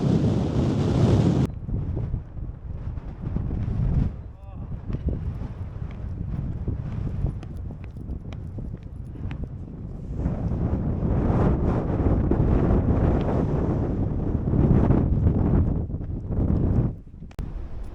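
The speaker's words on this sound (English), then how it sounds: "It's still windy." Strong, gusty wind on Glastonbury Tor buffets the microphone in a continuous low roar, with brief louder blasts and a few faint voices underneath.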